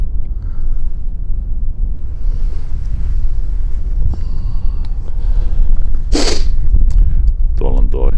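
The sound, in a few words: strong wind blowing on open hillside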